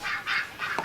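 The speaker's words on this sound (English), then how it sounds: "the bloody geese in the hall, Maureen." Geese honk in a hall, with about three short nasal honks in quick succession at moderate distance and no voices over them.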